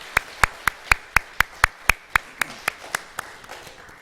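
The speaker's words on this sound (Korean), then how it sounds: "우리 격려와 사랑의 박수 한번 같이 한번 보내드리도록 하겠습니다" A church congregation at a Sunday service claps in unison, about sixteen sharp, evenly spaced claps at a brisk, steady beat, loud and close, easing slightly toward the end.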